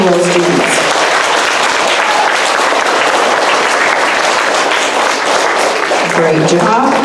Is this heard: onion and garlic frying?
no